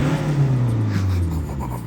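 VW Golf 1.6 with a double exit exhaust and the back box deleted, a short loud burst of engine note with a deep droning rumble.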